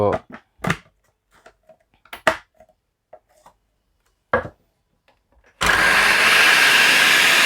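Electric vegetable chopper machine slicing snake gourd, starting with scattered clicks and knocks, then a loud continuous motor whir that runs steadily to the end.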